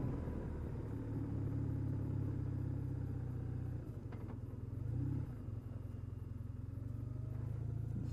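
A bus drives a narrow coastal road in Ireland, its low engine rumble steady and moderately distant, briefly swelling midway as it passes, with no voices.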